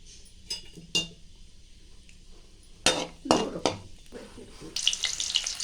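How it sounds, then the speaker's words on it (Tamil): Cinnamon, cloves and bay leaf hit hot oil for a mushroom kurma, giving short bursts of crackling sizzle with a few metallic clinks of a utensil against the pan. The sounds are close and come in separate bursts, with no talking. "எண்ணெய் காஞ்ச பிறகு பட்டை லவங்கம் சேர்த்துக்கோங்க"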